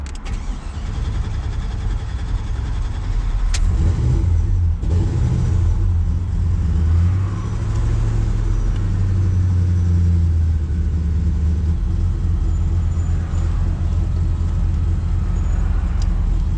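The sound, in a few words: Chevy car engine starting and running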